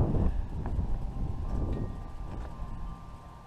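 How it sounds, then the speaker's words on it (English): A big gust of wind buffets an RV on a cold, windy night. A low, rumbling roar hits hardest at the start and then eases into a steadier blustery hiss. "there comes a big gust."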